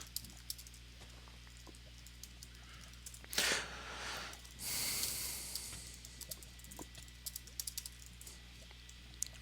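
Quiet computer keyboard typing during a Minecraft session, scattered light key clicks close by, broken midway by two bursts of hissing game noise.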